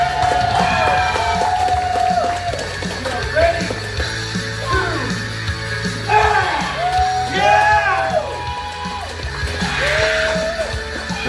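A crowd at a wrestling event cheers, whoops and shouts in rising waves, loud and sustained, with a voice talking over the noise.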